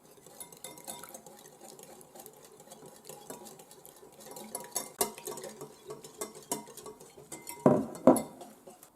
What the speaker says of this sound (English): whisk the egg yolks and while whisking, add the milk with the corn flour